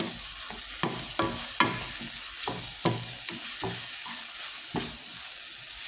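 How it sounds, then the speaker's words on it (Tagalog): Garlic, onion and tomato with a bay leaf sautéing in a pan, a close steady sizzle broken by repeated scraping stirs and clacks of a utensil against the pan at an uneven rhythm. "Gigisa lang po natin siya hanggang sa lumambot yung kamatis."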